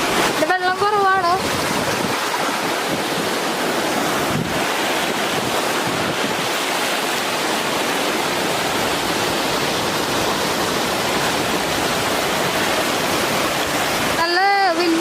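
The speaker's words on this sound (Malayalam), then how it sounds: "കേച്ചേരി പുഴയിൽ നിന്ന് വരുന്ന വെള്ളം തന്നെയാണ് ഈ ഒരു വെള്ളം." River water from the Kechery river pours through a partly opened dam shutter at Perumannu Chira, making a loud, continuous rushing roar with wind buffeting. Brief voices come at the start and end.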